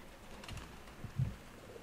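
Pigeons give a faint, soft coo, with one low coo a little louder in the middle, over quiet outdoor background noise.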